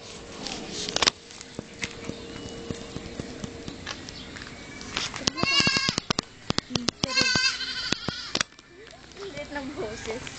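Goats bleat in short wavering cries amid hoof clatter and people talking nearby, several animals calling in quick succession.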